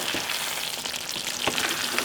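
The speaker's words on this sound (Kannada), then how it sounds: "ಈಗ ಇದಾಗಿದೆ ಒಂದು ಐದು ನಿಮಿಷ ಕುದಿಸ್ಕೊಂಡಿದ್ದೀವಿ" Gongura chicken curry bubbling in a pot on the stove: a dense, steady sizzle and crackle of simmering oil and gravy, close and continuous with scattered pops, no voices.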